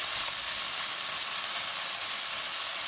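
Steady, loud, close sizzling of 250 grams of beef mince frying in oil with ginger garlic paste, a dense continuous hiss without speech.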